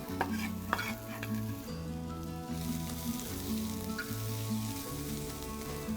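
Garlic and onion fry in a pan with a steady, close sizzle and crackle, stirred now and then, with no voices.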